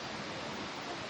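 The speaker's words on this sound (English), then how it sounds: "waterfalls, lovely" A Croatian waterfall gives off a steady, even rush of broadband water noise, soft and distant-sounding, continuous and with no voices.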